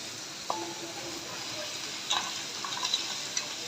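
Masoor dal badi fry lightly in oil left over from frying fish, giving a steady, soft sizzling hiss broken by a few sharp taps and clinks of stirring.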